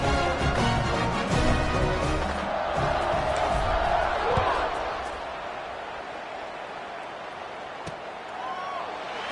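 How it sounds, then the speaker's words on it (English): Football stadium crowd buzzing after a score at a JMU versus UVA game, a broad steady roar of many voices that eases slightly midway, with announcer talk over it. "this crowd is buzzing after that last score"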